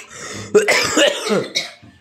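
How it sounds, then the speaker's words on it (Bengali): Several people sick with colds cough and clear their throats, with a sharp burst near the start of the second half and another shortly after, close to the mic, without speech. "দেখতেই পাচ্ছ সবার ঠান্ডা লেগেছে, কাশি হচ্ছে"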